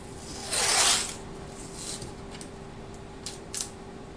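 Adhesive tape is pulled off with one loud, rasping rip and then pressed down, followed by a few faint, close rustles and light taps.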